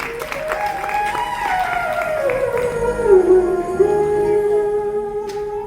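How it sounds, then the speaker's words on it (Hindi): An audience at an annual award function at SUPVA, Rohtak, applauds steadily throughout, with sustained music tones running beneath the clapping. "एक बार तालियां चाहूंगा हमारे साथी के लिए।"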